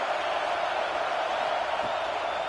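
A stadium crowd in the NCAA 26 football video game roars steadily on a third-down defensive stand, a dense, continuous wash of cheering that stays loud and even throughout.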